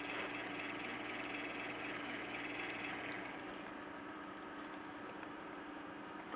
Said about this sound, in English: you can hear the motor running, especially if I touch the camera right against it